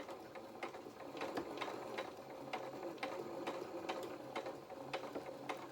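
Domestic sewing machine stitching along the edge of felt for a hedgehog doll's head, a steady run of rapid mechanical needle ticks and whirring, close and fairly quiet with no voices.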